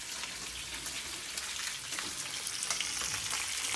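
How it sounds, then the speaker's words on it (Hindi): Marinated fish frying in a pan crackles and spits continuously, a dense, close, fairly loud sizzle with scattered sharper pops. "ये फिश हमारी यहाँ फ्राई हो रही है"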